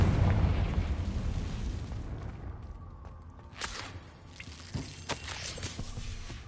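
A blasting spell explodes in the Hogwarts Legacy video game, giving a heavy booming burst that rumbles off, followed by scattered smaller pops and debris-like clatter against game ambience.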